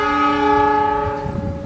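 The Papandayan passenger train pulling into Cibatu station sounds a steady, loud, multi-tone horn blast, held throughout at close range.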